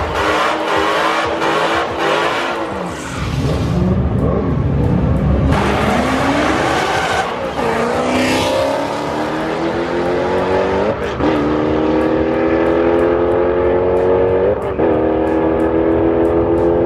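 A six-speed Dodge Challenger with a cam and a Cadillac CTS-V rev and accelerate at a drag strip test and tune, loud engines climbing through gears with tire squeal, close and continuous throughout.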